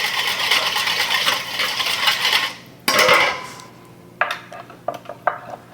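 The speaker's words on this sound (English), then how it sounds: "So what I'll do is get that nice and whisked up." Fast, close metallic clatter of a whisk beating shrimp salad dressing in a bowl, a steady rattling stream that stops abruptly, followed by a few separate clinks and taps of utensils against the bowl; no speech.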